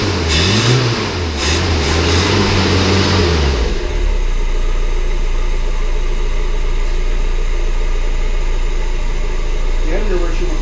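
A 1976 Bobcat Wagon engine that sat unused for 30 years, heard close up with a rev that falls back to a steady, even idle, loud and continuous, with brief talk near the end.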